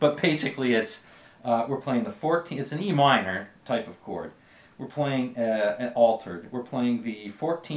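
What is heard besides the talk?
No everyday noises stand out.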